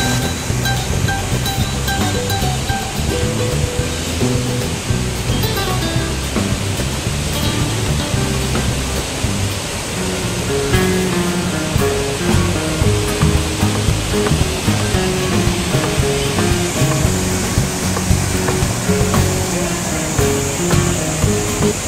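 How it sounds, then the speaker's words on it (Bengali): A monsoon-swollen waterfall and rushing stream at Kalyaneswari roar loudly and continuously, a dense, unbroken wash of crashing water close by. "এখানে দেখুন জলধারা দেখুন"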